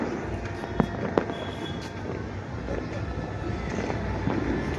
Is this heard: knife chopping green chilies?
no